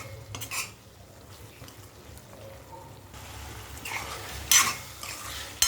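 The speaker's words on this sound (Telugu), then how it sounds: "మటన్ వేసుకుందాం. ఒకసారి అంతా కలుపుకుందాం." Mutton stirred into cooked tomato masala in a pot, a soft wet mixing and scraping with gentle sizzle and a few utensil knocks against the metal, close and without speech.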